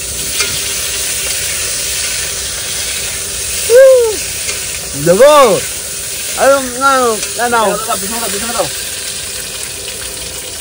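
Fish frying in hot oil makes a steady, loud sizzle throughout, while people speak briefly over it partway through.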